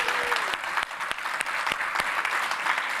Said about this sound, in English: one more round of applause for Nick and all of our presenters today.